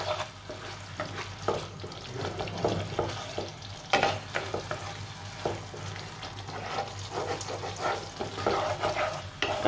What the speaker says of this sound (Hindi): तो अब मसाले को हम अच्छे से मिक्स कर लेंगे